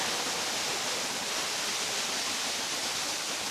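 Buruhin Falls in Bailen, Cavite pours in a dense, steady rush of water, a loud broadband roar heard close and uninterrupted.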